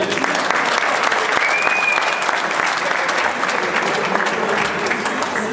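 Audience applauding billiards player Stéphane Dumont at a blackball final, steady, dense clapping throughout with a faint crowd murmur underneath.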